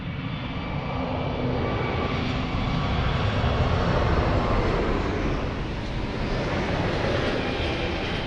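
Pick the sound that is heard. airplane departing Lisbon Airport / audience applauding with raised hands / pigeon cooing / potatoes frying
airplane departing Lisbon Airport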